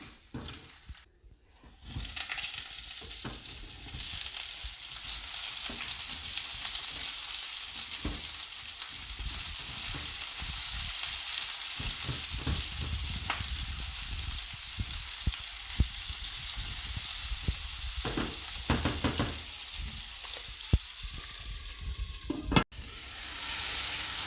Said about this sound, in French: Après 5 à 10 minutes de cuisson, les oignons ont bien roussi.